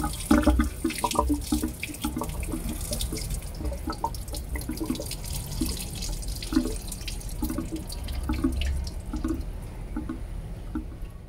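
Old radiator coolant draining out of a car's radiator drain hole, a steady splashing, gurgling flow of liquid heard alone and fairly close throughout.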